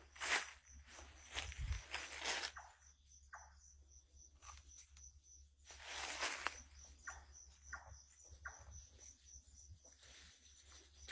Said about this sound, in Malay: dengar tapak kaki